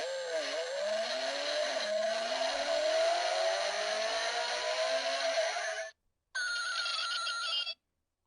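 An electronic sound effect from a die-cast toy truck imitates a gas car revving and shifting gears. It plays as a loud, buzzy, rising engine whine for about six seconds, then a brief cutoff and a shorter burst.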